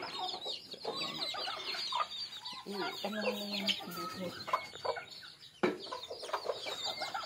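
Several chickens cluck and chatter close by in an irregular stream, with a brief spoken voice partway through.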